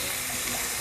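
Ground meat frying in a pan for picadillo, a steady broadband sizzle with faint scraping as it is broken up, close and continuous with no talk.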